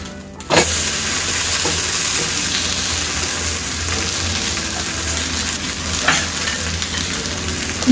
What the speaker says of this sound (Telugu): మీడియం ఫ్లేమ్ మీద పెట్టుకొని అట్టు వేయించుకోవాలి.